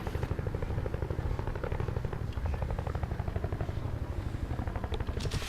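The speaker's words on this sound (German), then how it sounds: "Die haben gerade nicht so einen Heli in der Luft. Der startet gerade von denen." A helicopter lifts off in an online multiplayer video game, its steady rotor chop thrumming close and continuous throughout, with faint game effects and no speech over it.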